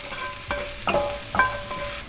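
Food fries hot in a cast iron pan, a steady soft sizzle broken by a few brief stirring scrapes, close and alone without talking.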